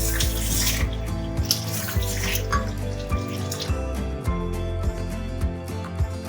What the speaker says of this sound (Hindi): ये हमने चावलों के लिए पानी रख दिए उबलने के लिए